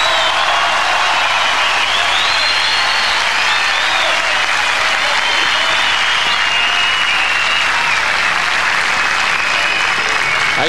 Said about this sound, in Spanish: Recibamos con un fuerte aplauso a Nicolás Massú.